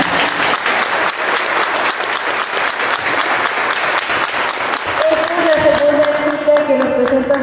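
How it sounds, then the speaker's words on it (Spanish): An audience at a family-history storytelling contest applauds, dense sustained clapping filling the room, with a voice starting to speak over it near the end. "Un fuerte aplauso."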